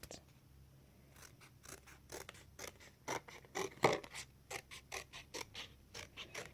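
Scissors snip through paper or card for a handmade gift box, a long run of crisp, evenly spaced cutting clicks, close and clear with no talk.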